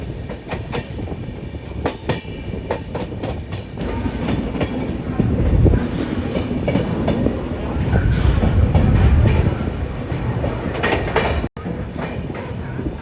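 A Sampark Kranti Express, train 12907 on the Mumbai main line, rolls steadily along the tracks with continuous wheel rumble and rhythmic clickety-clack, heard from on board, swelling louder mid-run before a brief dropout.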